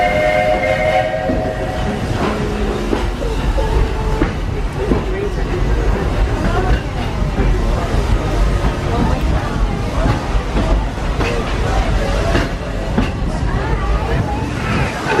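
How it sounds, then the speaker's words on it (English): A Walt Disney World Railroad steam train rolls along steadily at Magic Kingdom, with whistle toots near the start and continuous rumbling and clatter throughout, voices and crowd murmur mixed in. "this steam train is a little old-fashioned"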